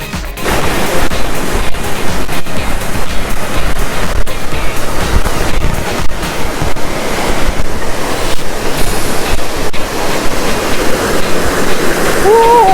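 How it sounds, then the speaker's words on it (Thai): A loud, continuous roar of a waterfall inside Kawachi Wind Cave in Shiga, Japan, sounds as a dense, unbroken rushing wash throughout. "น้ำตกค่ะ"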